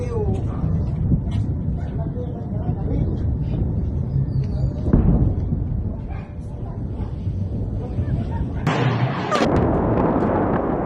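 Cruise missile explosions during a night air raid on Baghdad: dense, continuous low rumbling booms with a heavy blast near five seconds and another sharp burst near nine, while voices talk throughout.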